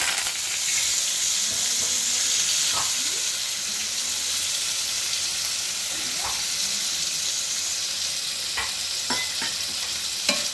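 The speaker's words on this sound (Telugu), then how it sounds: "ఇవి కొంచెం ఫ్రై అవనిద్దాము" Curry leaves, dried chillies, moong dal, cumin and mustard seeds frying in hot oil as a tempering, a steady loud sizzle throughout with occasional scrapes and clinks of a stirring spoon against the pan.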